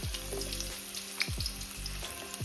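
Garlic and rosemary sizzling in hot oil in a pan for Jamaican brown stew fish, a soft, steady frying hiss overlaid with a low recurring hum, close and without voices.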